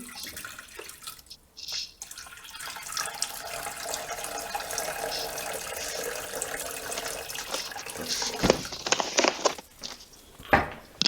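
Tap water runs steadily into a cooking pot or utensil in a home kitchen, a continuous hiss and splash with a brief pause near the start and a few clinks toward the end.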